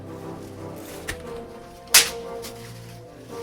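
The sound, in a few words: whip crack sound effect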